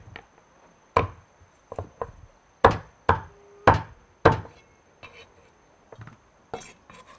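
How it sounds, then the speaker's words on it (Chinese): Cured duck being chopped into small pieces with a cleaver on a board, a series of sharp, close, loud knocks in an uneven rhythm, about a dozen strikes with short pauses between them. "把它斬成小坨坨。"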